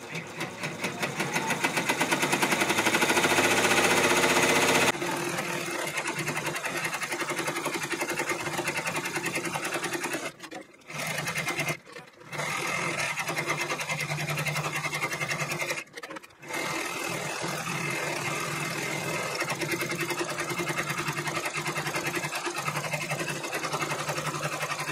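A multi-needle embroidery machine stitches a quilted table topper with a fast, steady mechanical chatter close by. It pauses briefly a few times, and faint speech-like sounds appear during the run.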